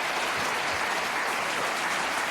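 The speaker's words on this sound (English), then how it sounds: "People always applaud that" A studio audience applauds at a talk show taping, a dense, even burst of clapping with no voices over it.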